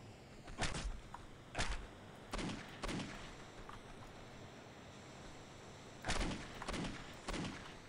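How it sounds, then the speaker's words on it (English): Automatic gunfire in the video game Postal 2, several sharp bursts of shots spaced irregularly with quieter gaps between, moderately loud over a low background. "That man has impeccable accuracy, given that he is firing a fucking automatic."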